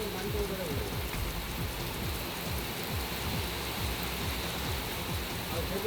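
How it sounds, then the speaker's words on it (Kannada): Heavy torrential rain pours down in Chikkamagaluru, a dense, even roar of water striking surfaces with a steady wash of droplets throughout. "ಮಲೆನಾಡು ಭಾಗದಲ್ಲಿ ಧಾರಾಕಾರ ಮಳೆಯಾಗ್ತಾ ಇದೆ"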